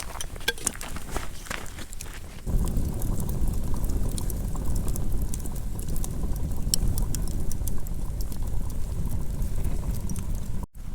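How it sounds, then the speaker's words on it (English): Beef stock and water at a rolling boil in a pot, a steady, rumbling bubbling, continuous and fairly loud, with a few clicks and no talking. "you guys can hear it boiling away"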